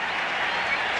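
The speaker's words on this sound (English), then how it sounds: "Listen to the crowd. They're in on it now." A baseball crowd at a 1986 NLCS playoff game in a stadium cheers and applauds steadily, a dense wash of clapping and roar that holds through the whole moment without any clear voice on top.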